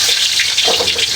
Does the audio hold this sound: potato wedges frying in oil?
no